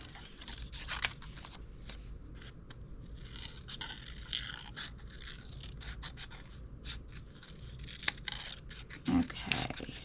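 Scissors trimming paper craft material for handmade fall decor, giving soft, close snips and scraping rustles in an irregular rhythm, fairly quiet, with a little talking in the background.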